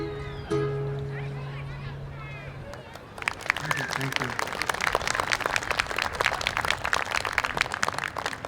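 A crowd at an interfaith music festival breaks into dense, steady applause for performers that continues to the end, following a brief stretch of quieter sound and a faint voice at the start.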